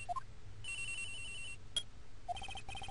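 A cell phone ringing in Phoenix Wright: Ace Attorney, a bright electronic ringtone with repeated beeping tones in short bursts over a low background hum, no voices.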